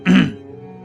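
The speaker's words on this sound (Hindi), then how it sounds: "गला साफ करके बोला" A single short throat clearing, close and fairly loud, lasting about a quarter second, then a quiet room tone with no speech.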